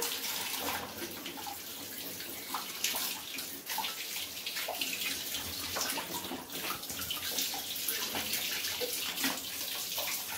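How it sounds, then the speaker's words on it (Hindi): Water gushing steadily from an opened tap, a continuous hissing, splashing stream heard close and unbroken throughout. "इन्होंने अब नलका खोल दिया है"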